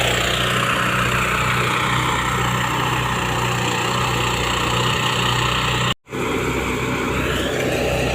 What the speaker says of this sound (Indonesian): ini adalah salah satu mesin perontok padi yang ada di daerah Kabupaten Indramayu yang disebut dengan nama gerabagan ya